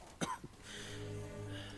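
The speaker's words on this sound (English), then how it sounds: "He's coughing." A character in the video game The Witcher 3 coughs twice, short and quiet, near the start, followed by low, steady in-game ambience.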